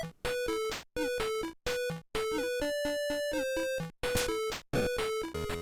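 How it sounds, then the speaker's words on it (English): Simple, bright square-wave Atari 7800 video game music plays in short phrases broken by brief gaps, with a plain melody over a thin, buzzy accompaniment. "And the music on the 7800 sounds like this."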